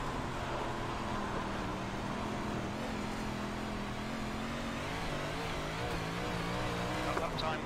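A 358 modified race car engine roars at full throttle in iRacing on the Lernerville dirt track, a steady, loud, continuous drone with slight pitch swells through the corner and no break across the whole stretch.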